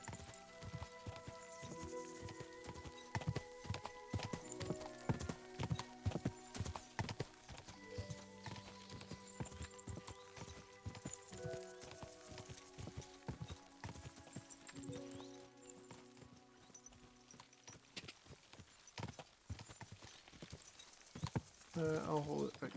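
A horse in Kingdom Come Deliverance 2 gallops with a steady, rapid clip-clop of hooves, close and continuous, with a brief whinny and someone talking over it.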